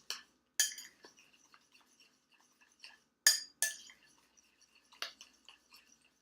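A liquid mixture stirred in a glass, with sharp spaced clinks and taps of a utensil against the glass, a few louder strikes among softer scrapes and small drips, close by with no talking.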